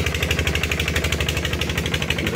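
Farmers' boat engine on the Godavari river chugs loudly and close by, a rapid, steady thumping beat that never lets up, with no voices.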